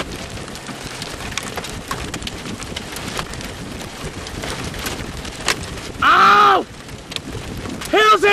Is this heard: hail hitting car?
yes